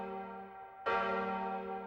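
A church-style bell in the anime Giant Robo strikes once with a loud clang, its bright ringing tone layered over a sustained low hum and slowly decaying.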